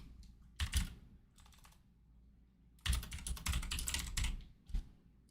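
Someone types on a computer keyboard nearby, first in two short bursts of clicking and then in a longer, denser run of keystrokes.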